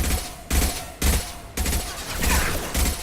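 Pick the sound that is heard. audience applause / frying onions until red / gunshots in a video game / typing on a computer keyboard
gunshots in a video game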